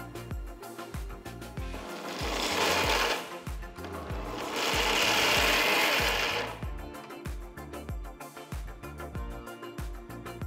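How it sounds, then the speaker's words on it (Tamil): A mixer grinder coarsely grinding roasted peanuts roars in two loud bursts, each lasting a couple of seconds, with quieter clattering and rattling between and after them. "ஆறுனதும் ஒரு மிக்சர் ஜாரில் போட்டு கொரகொரப்பாக அரைச்சிக்கலாம்"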